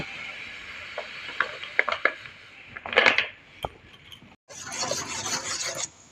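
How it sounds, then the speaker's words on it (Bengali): A bowl of semolina (suji) goes into melted sugar in a pan for a mango mini cake. A few clinks and scrapes of utensils on the pan come first, then a steady granular hiss as the semolina pours in. "এই দেখো পুরো 1 বাটি দিয়ে দিচ্ছি।"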